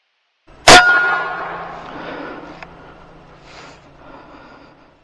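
A single sharp report from an AirForce Texan .45 carbon fiber big bore airgun fired at a deer outdoors, one loud crack followed by a ringing, slowly fading tail and faint trailing echoes, with no talk.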